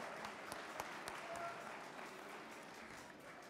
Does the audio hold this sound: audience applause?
yes